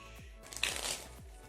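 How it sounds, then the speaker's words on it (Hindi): A deck of playing cards being shuffled during a card trick, one brief soft riffle in the middle, faint and close, framed by low thumps. "मैं कितने भी कार्ड्स को नीचे के कार्ड्स को शफल कर सकता हूँ"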